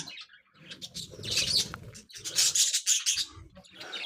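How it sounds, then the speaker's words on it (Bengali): Pigeons in a pigeon house give bursts of wing flapping and chirpy calls, with soft cooing underneath, close and lively for about four seconds. "এই যে দেখেন নিচে কত সুন্দর করে পাখিগুলো বসে আছে আবার উপরেও পাখি আছে"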